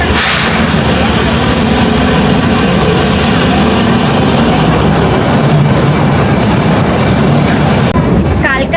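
The Shivalik Deluxe Express toy train on the narrow-gauge Kalka–Shimla railway rumbles loudly and continuously from onboard, with a steady roar of wheels and carriage noise throughout.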